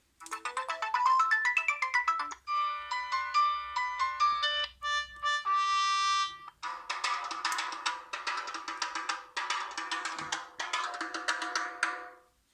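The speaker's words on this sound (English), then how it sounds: "Ringtone." A smartphone ringtone plays at maximum volume on a repaired phone, a loud electronic melody of stepped tones shifting into a denser, bright chiming pattern, alone for about twelve seconds.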